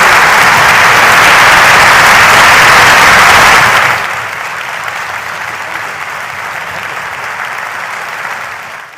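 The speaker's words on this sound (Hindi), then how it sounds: "बच्चे सेंचुरियन की पूरी टीम के लिए जोरदार खड़े होकर शोर के साथ तालियां बजाएंगे" Students at a Centurion school anniversary celebration give loud standing applause with shouting, a roaring dense wash that drops abruptly after about four seconds to a lighter, continuing clapping.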